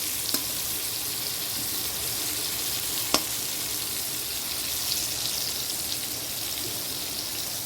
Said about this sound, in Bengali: এটাও ফুটছে দেখো